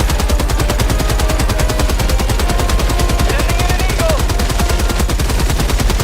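Heavy machine gun in Helldivers 2 firing a continuous, loud, rapid burst of evenly spaced shots that lasts the whole stretch, with no talk over it.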